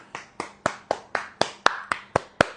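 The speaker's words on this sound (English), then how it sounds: "clap your hands" Hands clap nine times in a steady, evenly spaced rhythm during a relaxation exercise, each clap sharp and close with no other sound between.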